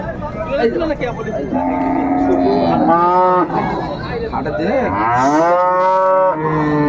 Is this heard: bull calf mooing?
yes